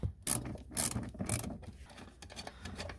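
A ratchet wrench loosens a 10 mm bolt on a failing factory amplifier in a 2004 Saturn Vue. Several quick clicking bursts come in short strokes, close and fairly loud, with a quieter stretch of lighter clicks and rubbing afterward.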